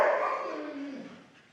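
A husky dog gives a drawn-out, howling bark that slides downward in pitch and fades toward the end, close and alone with no talk.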